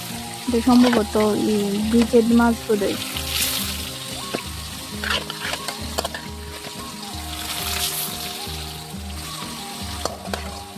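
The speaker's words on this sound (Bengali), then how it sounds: "এবার বাকি মাছগুলিও দিয়ে দিব কড়াই" Fish fry in a wok with a bright, crackling sizzle and bursts of spitting oil, mixed with intermittent stirring clatter, and a voice briefly heard early on.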